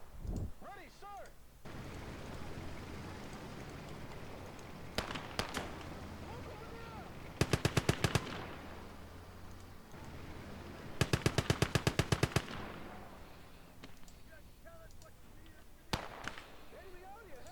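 WWII video game battle as a machine gun nest fires rapid bursts, with separate single shots and distant explosions between, while voices talk and shout over the combat.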